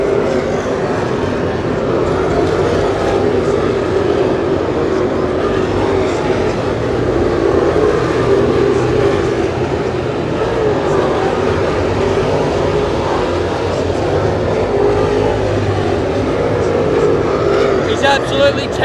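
Late model race cars lapping a dirt track at an Australian late model title feature race at a motorplex, a steady loud engine roar of the pack throughout, with a commentator talking over it.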